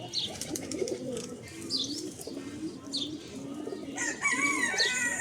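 Pigeons, one female and two males, coo in low repeated throbbing phrases close by, with faint chirps from other birds higher up and a brighter burst of calls near the end.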